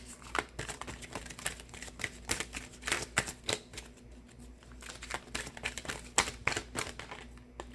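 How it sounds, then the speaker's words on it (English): Tarot cards being shuffled by hand, with irregular crisp riffles and soft slaps in a quiet room, close and fairly faint, with no talk. "I need to shuffle them better."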